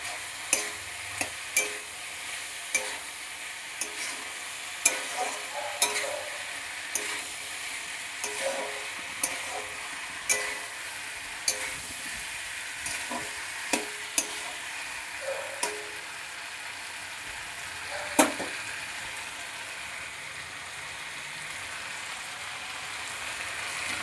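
Leafy greens and vegetables fry for Bengali shak chorchori, a soft steady sizzle under repeated sharp scrapes and knocks of a spatula stirring in the pan, no talking.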